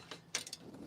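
A ratcheting box end wrench on bolts in a shop setting gives a few faint, quick metallic clicks in a short, quiet burst.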